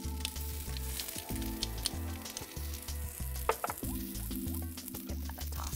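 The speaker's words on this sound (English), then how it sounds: "Now we can go ahead and add our garlic." Garlic sizzles in a hot pan for garlic soy edamame, a soft, continuous frying hiss with small crackles and a few stirring scrapes, quiet and close, with no talking.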